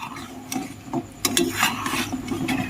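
Fried flour-and-sugar sweets being stirred in sugar syrup in a pan, giving soft scraping and clattering of a spoon against the pan with irregular sticky stirring strokes, moderately close and steady.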